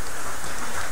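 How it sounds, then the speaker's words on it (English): Rain falls in a steady, dense hiss that fills the whole moment evenly, with no voices over it. "It's raining, by the way"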